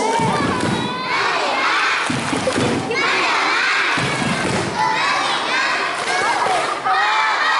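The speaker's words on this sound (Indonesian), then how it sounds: "tepuk lantai itu boleh" Children at an Isra Mi'raj commemoration at an Islamic primary school clap and pat the floor in loud, irregular thumping bursts, mixed with excited shouting and crowd noise throughout.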